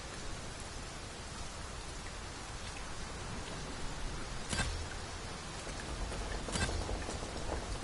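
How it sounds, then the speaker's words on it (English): Steady rain falls in Dragon's Dogma 2, a dense, even hiss of drops on surfaces with a couple of brief louder patters, no voices. "It is raining."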